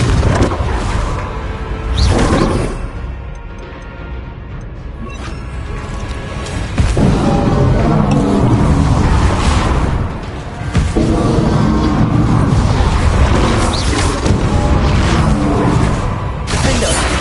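Spell explosions from Bombarda and Confringo in Hogwarts Legacy on PS5, with repeated loud bursts, crashes and whooshes in dense back-to-back combat.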